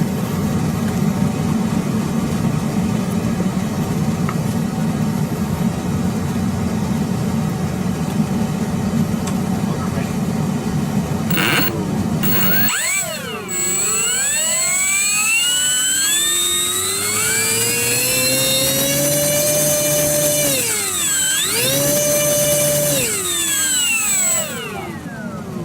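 An RC model plane's electric motor on a 50 amp ESC and 4S 2200 battery winds up with a rising, then falling whine over a steady hum, throttled up and down several times, loud and close.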